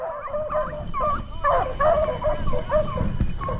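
Beagles bay and yip while hunting, a pack of overlapping high, wavering cries at mid distance over rustling and outdoor background noise, with faint human voices mixed in.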